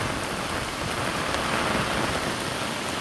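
Heavy rain driven by wind pours steadily onto a village during a downpour, a dense, constant roar of drops close by with no pauses and no voices.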